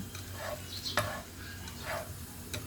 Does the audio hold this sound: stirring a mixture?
yes